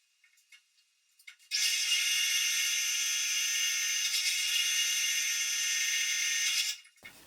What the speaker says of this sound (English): just using some cutting oil and an 1/8 inch drill bit.